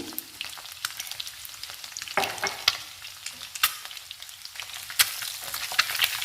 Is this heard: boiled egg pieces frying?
yes